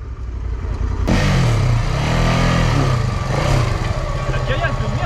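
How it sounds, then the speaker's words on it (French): Motorcycle engine running loud and close, pushed over rough rocky trail ground on a hard off-road ride, with revving surges and people talking over the engine noise. "je décide de faire passer ma moto"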